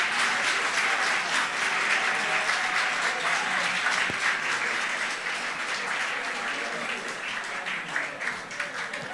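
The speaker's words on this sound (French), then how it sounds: "Et je vous demande de les applaudir" A crowd applauds steadily for several seconds at the grand final of a student competition, dense clapping that slowly thins toward the end.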